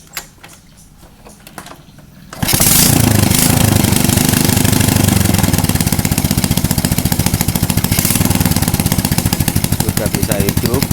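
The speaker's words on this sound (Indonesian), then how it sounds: "sekali dinyalain langsung bisa nyala mesinnya bosku" A Honda Supra 125 motorcycle with a freshly refitted carburetor fires on the first try after a quiet lead-in, then settles into a loud, steady close-up running engine with a rapid rhythmic chatter.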